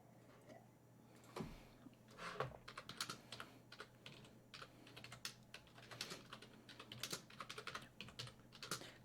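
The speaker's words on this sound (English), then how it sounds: "when I'm typing one-handed, I have to look at the keys" One-handed typing on a computer keyboard during a quiet acoustic music stream: irregular, soft key clicks in short bursts with pauses, close to the microphone and without talking.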